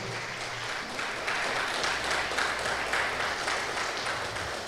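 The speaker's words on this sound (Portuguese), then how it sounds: "pode glorificar e aplaudir o Senhor" A worshipping congregation claps for the Lord during a church service: a continuous broadband patter of many hands that swells slightly after the first second and then holds steady without talk.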